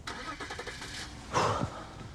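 A car pulls away, a low engine rumble swelling into a brief rev about midway before easing off, heard at moderate distance.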